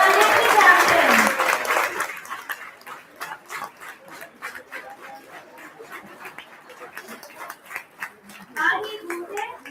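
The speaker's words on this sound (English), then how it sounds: "And for loud round of applause" An awards ceremony audience breaks into loud applause that gradually thins to scattered clapping, with a brief swell again near the end and faint voices underneath.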